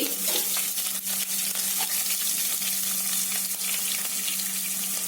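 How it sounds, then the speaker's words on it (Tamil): Green chili and ginger sautéing in a pan over medium flame, a steady continuous sizzle and frying crackle with occasional stirring scrapes, close and fairly loud with no voices. "இதை கொஞ்சம் லைட்டா வதக்கிக்கலாம்"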